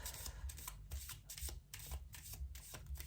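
Tarot cards are shuffled quietly in a steady rhythm, about two riffles per second, each with a soft papery flutter and tap.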